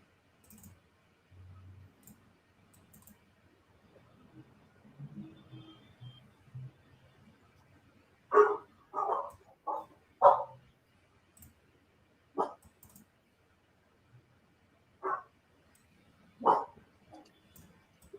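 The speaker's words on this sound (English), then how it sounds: "I can hear the dog. Yeah, they're barking at the alarm." Dogs bark in a series of sharp, separate bursts spaced several seconds apart, reacting to an alarm, with faint clicking and a quiet room in between.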